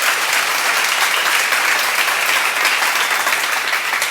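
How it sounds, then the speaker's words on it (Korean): A church seminar audience claps hard together, a loud dense wash of applause that holds steady from start to finish with no pauses. "박수 세게 쳐봐요."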